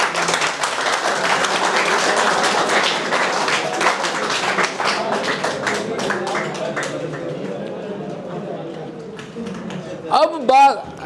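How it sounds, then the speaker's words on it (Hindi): Audience applause, a dense crowd of clapping that rises at once, holds steady, then thins out and fades over several seconds, with a voice speaking near the end. "जोरदार ताली"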